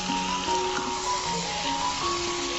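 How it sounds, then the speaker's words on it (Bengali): Mutton added to a pan of well-fried spice paste for a wedding-style shahi mutton rezala, a steady close sizzle with faint crackles and some soft stirring, continuous throughout. "আমি মশলাগুলোকে ভালো মতো কষিয়ে নিয়েছি। এখন দিয়ে দিচ্ছি খাসির মাংস।"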